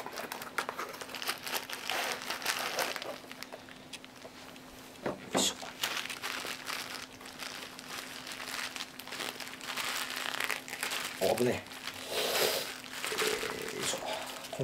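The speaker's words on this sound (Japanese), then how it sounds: "梱包ちゃんとしてあるんでちょっと取りにくいですね。" Tightly packed packaging around a Sony watch is pulled open, with close crinkling and crumpling of plastic wrap and a couple of sharper rustles, alongside some talk.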